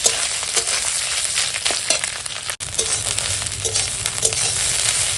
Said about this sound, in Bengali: বেশ খানিক্ষণ থোরটা ভেজেছি